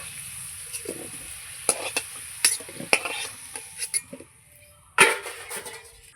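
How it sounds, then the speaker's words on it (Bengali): Potatoes fry in oil with turmeric and salt in a pan over a gas stove, with a soft sizzle under sharp, intermittent clinks and scrapes of a stirring utensil against the pan. "হলুদ দিয়ে আলুটা আমি লাল লাল করে ভেজে নিব"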